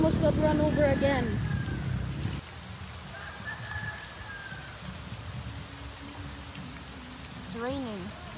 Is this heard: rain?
yes